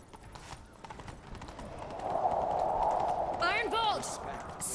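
Roach, the horse in The Witcher 3: Wild Hunt, gallops with quick rhythmic hoofbeats that come close and grow louder. Game ambience runs underneath, and a short whoosh-like sound effect cuts in near the end.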